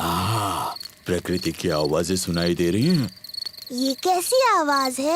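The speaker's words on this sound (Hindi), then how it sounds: "ये कीड़ों की चींची आवाज है।" Crickets chirp at night in a cartoon as a thin, steady high trill running under the clip, mostly masked by animated characters talking and sighing.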